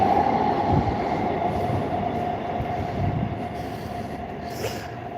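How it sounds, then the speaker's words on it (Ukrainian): A metro train in Warsaw rumbles loudly and steadily as it pulls away, with a brief high wheel squeal near the end. "Все, поїхало метро нарешті."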